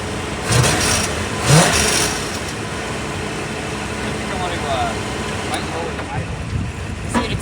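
A 1975 Chevrolet Monza with a 350 V8 idles with a continuous low rumble, swelling briefly a couple of times, while muffled voices can be heard faintly in the background.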